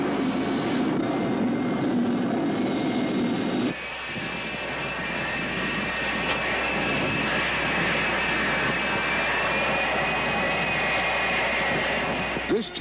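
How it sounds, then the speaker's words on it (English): A QF-86H Sabre drone jet turns onto the runway at China Lake, its engine a steady loud whine and roar that shifts in tone partway through, with no speech. "The aircraft made a 100-degree turn onto the non-duty runway."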